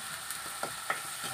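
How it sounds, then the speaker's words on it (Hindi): Masala fries in a pan in a village kitchen, a soft steady sizzle broken by a few quiet stirring taps, brief and fairly faint. "मसाला को अच्छा से भूनने देते हैं"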